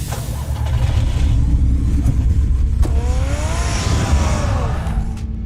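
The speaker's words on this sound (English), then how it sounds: "Get the car ready, Alfred." A car engine in the Batman Telltale video game rumbles and revs steadily and loudly, with a brief rising whine partway through and no talking.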